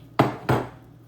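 Two quick metallic scrapes as a ladle spreads uttapam batter round on a pan, close and fairly loud, each clink fading out with no talking.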